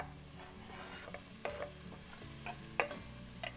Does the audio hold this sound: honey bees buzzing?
no